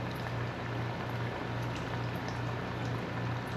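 Beer-battered fish and crab fingers fry in hot oil, giving a steady, even bubbling sizzle at moderate distance with no talking.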